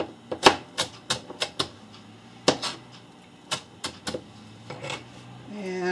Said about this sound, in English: And cut the mushrooms up.